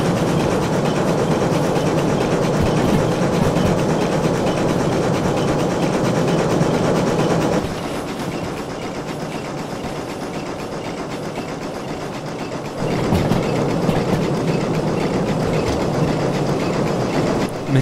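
A steam locomotive in the Derail Valley train game pulls a log load uphill with the throttle wide open, giving a loud, continuous rumble and rail clatter that briefly drops in level midway before surging back, with no speech.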